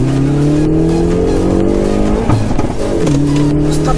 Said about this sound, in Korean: RPM 올려주고